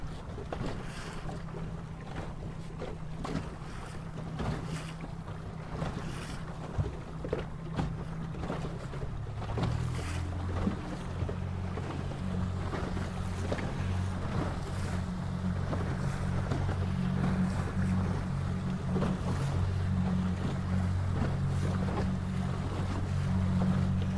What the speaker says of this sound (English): We are sailing upwind. This is the first upwind to mark number 1.